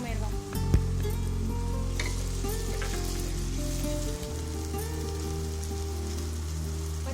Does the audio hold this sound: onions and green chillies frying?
yes